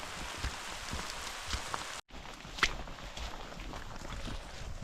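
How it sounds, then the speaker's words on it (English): A summer rain shower patters steadily on surfaces outdoors near Denali State Park, a soft continuous hiss of drops with a brief dropout partway through and occasional closer splashes. "we got hit by a rain shower now"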